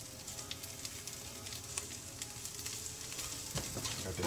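Butter sizzling in a hot pan before Beyond Beef crumbles go in, a steady, fairly faint crackling hiss with scattered pops, heard close and alone.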